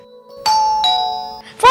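Doorbell chime at home, three bright ding tones in quick succession with a short voice at the end.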